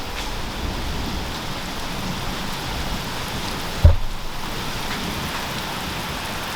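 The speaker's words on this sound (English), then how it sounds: "It is coming down out there like cats and dogs." Heavy rain falls outside in a steady, dense hiss, with one brief low thump partway through.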